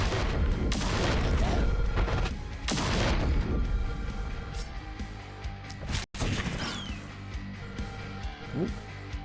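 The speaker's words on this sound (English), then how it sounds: "Let the carpet bombing commence." Carpet bombing explosions in The Last Spell, a string of heavy booms and crashes early on, then quieter rumbling hits and scattered impacts, close and loud.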